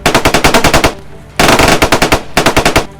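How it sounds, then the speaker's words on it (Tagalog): Loud bursts of rapid rifle gunfire in two volleys, each a fast string of sharp cracks, separated by a brief pause with lingering echo; no voices. "malakas na putok ng mga barel"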